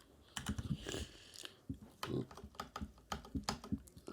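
Typing on a computer keyboard: a close, quiet, irregular run of key clicks and clacks in short bursts and pauses, with a few heavier presses standing out.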